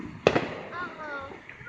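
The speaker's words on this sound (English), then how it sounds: "Are you guys gonna be able to come outside for the fireworks?" A single loud firework bangs outdoors on a Fourth of July night on Benning Road in D.C. The sharp crack comes near the start and echoes away while a voice talks faintly underneath.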